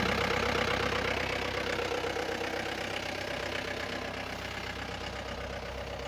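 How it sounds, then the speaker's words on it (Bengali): A Mahindra Bolero pickup's engine idles with a smooth, steady, close mechanical drone that holds even throughout, no talking over it. "Smooth sound. ইঞ্জিন যে শক্তিশালী অবস্থায় আছে আপনারা সেটা বুঝতে পারছেন"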